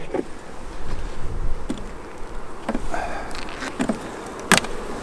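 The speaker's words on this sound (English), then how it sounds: "there's lots of bees in there though, is there?" Honey bees buzz steadily close by inside a hive, with individual insects droning past in brief louder swells over a constant hum; no talking.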